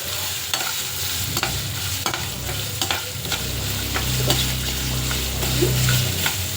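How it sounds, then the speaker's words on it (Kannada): Green chillies and grated coconut fry in a pan, a steady close sizzle with scraping stir strokes and a rising bubbling crackle toward the end. "ಸ್ವಲ್ಪ ಫ್ರೈ ಆಗಲಿ ಮೆಣಸಿನ್ಕಾಯಿ."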